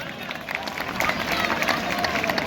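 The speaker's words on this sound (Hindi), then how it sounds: "ये तालियां इतनी जोर से फिर से होनी चाहिए।" Audience at a Ramlila stage farewell for the performer playing Sita claps steadily, a dense rustle of applause that swells slightly partway through, with crowd noise mixed in.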